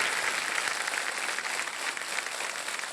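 Studio audience on a quiz show set rising to their feet and applauding a winning contestant, a dense steady wash of clapping sustained throughout at even loudness.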